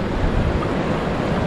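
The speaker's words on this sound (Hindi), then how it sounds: "बहता हुआ पानी है" Fast, cold river water in the Tirthan Valley rushes steadily with a loud, close, unbroken roar of broadband noise and no talk over it.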